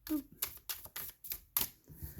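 A Crystal Visions tarot deck is shuffled by hand, giving a string of short, crisp papery slaps and riffles at an uneven pace, close up, with a voice briefly audible.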